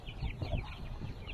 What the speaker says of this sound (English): Man, these chickens got it made.